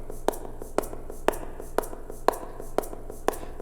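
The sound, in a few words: shaker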